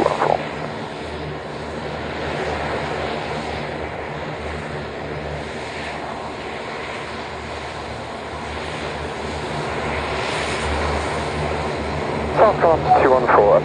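A plane lining up for departure at RAF Waddington Airshow 2013, its engine droning steadily at a distance under crackling radio chatter and voices, with louder crackles near the end.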